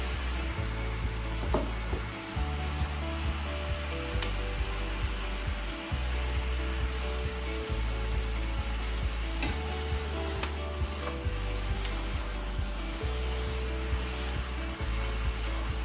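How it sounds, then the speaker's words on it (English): Bean sprouts stir-fried in a pan give a steady, broad sizzle with a constant low rumble beneath, close and continuous, broken only by faint scraping and occasional short clicks from stirring. "I'll just kind of stir fry them"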